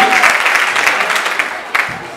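Students at a Kamina high school clap and cheer in a burst of applause, a dense crowd of hands and voices that swells at the start and pulses again near the end.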